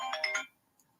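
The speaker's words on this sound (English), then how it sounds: "what the fuck is she calling my phone for?" A phone ringtone sounds for an incoming call: a bright melodic burst of tones lasting under half a second, close and clear, then cut off and followed by near silence.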